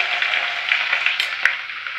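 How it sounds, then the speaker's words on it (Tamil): Crushed ginger and garlic hit hot oil with mustard seeds and cumin, giving a bright, steady hiss with a couple of quick crackles and a brief clink, close and loud. "இது கூடவே நம்ம இடிச்சு வெச்ச இஞ்சி பூண்டை சேர்த்துப்போம்"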